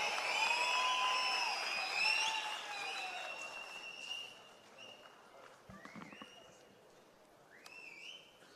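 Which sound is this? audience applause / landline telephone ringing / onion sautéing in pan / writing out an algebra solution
audience applause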